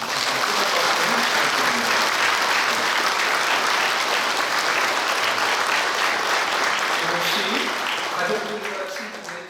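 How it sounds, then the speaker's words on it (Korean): A church congregation applauds at a Korean retirement thanksgiving service honoring an elder, a dense, steady round of clapping that fills the room and fades slightly at the end. "박수 한번 부탁드립니다."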